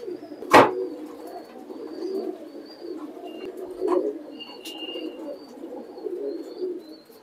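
Pigeons cooing softly in low, repeated murmurs, with a sharp knock near the start and a few faint chirps and clicks in the background.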